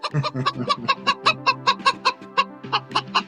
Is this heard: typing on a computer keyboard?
no